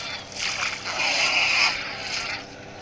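Splashing water as a character jumps into a river in the Minecraft video game, a broadband wash of water noise that swells and fades over a few seconds, fairly close, with no talk over it.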